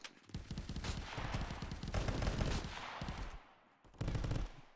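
Dense automatic gunfire from the VR video game Contractors, rapid bursts rattling almost without pause, dropping off briefly near the end before another loud burst.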